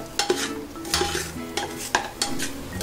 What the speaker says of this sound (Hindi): अभी ये सारी चीजें हमें अच्छे से घी में भून लेनी है।